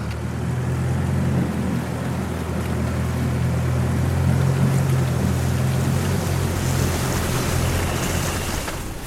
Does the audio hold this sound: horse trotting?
no